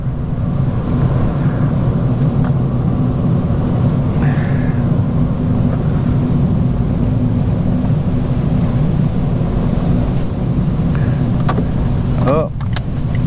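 Ford Fiesta bought at auction with a lively small engine, heard while driving: a continuous low engine hum and road rumble from inside the cabin, steady and fairly loud.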